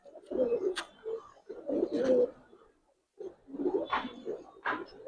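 A silver khaki Giribaz pigeon coos while perched on a hand, giving several soft, throaty bursts with a short pause in the middle, close and clear, with no talking.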